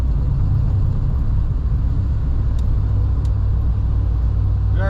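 1957 Chevrolet 210 Wagon driving out onto the road and getting up to speed, a close, steady low engine rumble with road drone throughout and a faint rising whine at the end.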